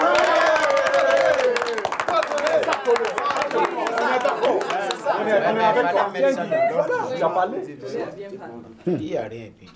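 Clapping breaks out at a public meeting over a protest about wages and the cost of living, dense at first and then thinning, mixed with loud crowd chatter and voices throughout.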